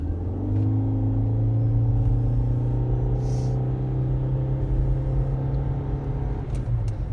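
A Toyota Prius Prime's gas engine kicks in under hard acceleration, a steady droning hum with rising harmonics that holds close and loud inside the cabin throughout, with a faint click or two along the way.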